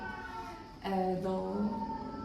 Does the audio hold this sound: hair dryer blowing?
no